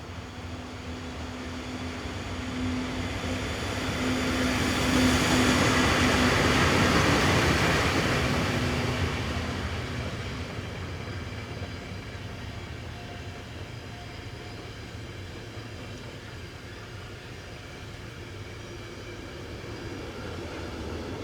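A Swiss freight train hauled by Class 420 locomotives passes near Olten, swelling to a loud rumbling roar, then fading into a steady distant rolling of wagons.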